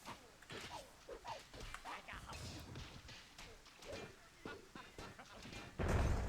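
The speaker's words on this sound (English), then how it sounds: "Explosions everywhere." Repeated explosions and crashing impacts in the strategy game Myth II: Soulblighter during a free-for-all multiplayer match, a busy run of thuds and blasts with one heavier boom at the end, mixed under commentary voices.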